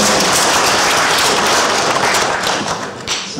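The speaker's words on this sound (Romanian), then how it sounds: "Da, mergeți, aplaudați" An audience breaks into loud, dense applause at a history talk, steady and close for a few seconds before thinning slightly toward the end.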